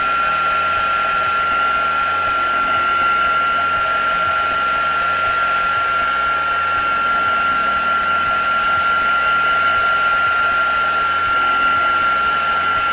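Heat tool blowing steadily to dry embossing paste on a mixed media card, a loud, constant airy whir with a sustained high whine and no pauses, close by.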